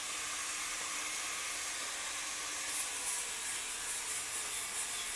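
Welding on the cut and modified seat frame of a Yamaha FZ 150 motorcycle gives a steady broadband hiss and crackle that runs unbroken and fairly close for the whole stretch.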